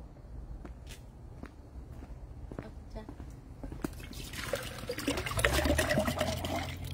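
Water is poured into a cup, starting with a few scattered drips and clicks and then turning into a strong, continuous splashing pour for the last few seconds.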